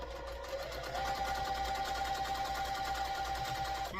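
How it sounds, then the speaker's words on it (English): A sewing machine stitches cotton fabric patches for a quilt block in a steady, fast mechanical chatter, running continuously and close up without talk. "we'll just flip this over here and take it over to the sewing machine"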